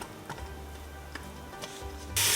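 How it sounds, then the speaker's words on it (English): Vegetables and bacon sizzle in a pot for pasta e fagioli, giving a soft, steady frying crackle with occasional ticks, and a brief louder rush of hiss at the very end. "It's been 1 minute and everything's starting to sizzle."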